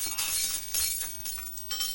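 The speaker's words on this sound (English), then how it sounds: "When glass goes meh, you're supposed to make it go crash and sparkle." Glass shattering in the video game Happy Wheels: a bright, sustained crash of breaking shards with repeated sparkling bursts, loud and dense throughout.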